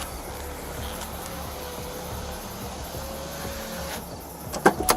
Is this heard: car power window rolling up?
yes